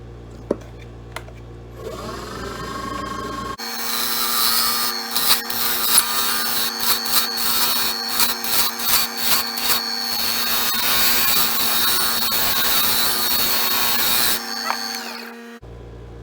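A lathe turns a hybrid wood and resin reel seat blank, cutting it down for the barrel: a steady, loud motor whine with cutting noise runs for about eleven seconds, then stops.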